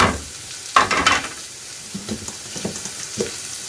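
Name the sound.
carrot and capsicum sizzling in pan for pasta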